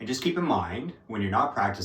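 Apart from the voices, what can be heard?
No distinct noise like a dog, phone or traffic.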